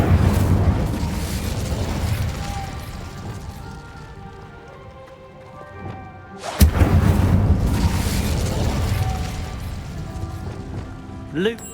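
Incendio fire spell cast in Hogwarts Legacy, a loud whooshing fiery burst that roars and crackles, fades, then erupts again sharply and sustains, with game music tones underneath.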